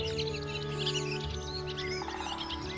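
Thrushes, a flocking group-living bird, giving repeated high chirps and calls alongside a steady mid-level hum, moderately close, with no voices.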